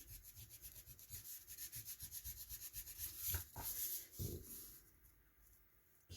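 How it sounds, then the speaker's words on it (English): A glue eraser rubs dried glue out of the paper creases of an accordion-style craft journal, giving close, continuous scratchy rubbing strokes in a steady back-and-forth rhythm with a few louder scrapes. "I've got some glue in my creases here. So this is a glue eraser"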